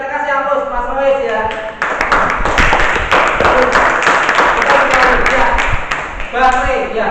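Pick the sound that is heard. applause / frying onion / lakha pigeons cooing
applause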